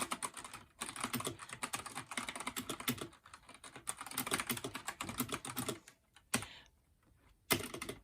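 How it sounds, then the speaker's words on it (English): Rapid clattering keystrokes on a budget computer keyboard, typed in continuous bursts with short pauses near the end, close and fairly loud with no talking. "The typing experience on this keyboard, besides the sound, it's solid."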